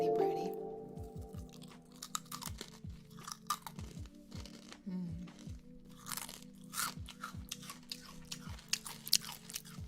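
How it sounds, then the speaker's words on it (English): Loud, close crunching of chips in an ASMR setting, a rapid series of sharp bites and chewing crunches spread across the whole stretch, with faint talk underneath. "Aggressive crunch."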